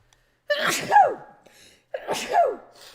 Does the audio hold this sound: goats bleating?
no